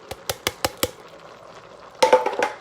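Utensil stirring canned tomatoes into pumpkin chilli in a Pampered Chef Quick Cooker: five evenly spaced clinks at the start, then a brief louder burst of scraping and stirring near the end, with no talk.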